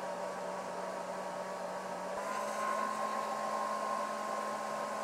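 A Newsmy S600 portable power station running under load gives a steady electrical hum with a faint fan whir, constant and even throughout with a slight shift in tone partway through.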